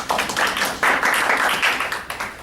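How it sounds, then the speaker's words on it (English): An audience applauding volunteers at a talk, a short loud burst of dense clapping that swells, dips briefly and picks back up, with no speech over it. "Give our volunteers a round of applause."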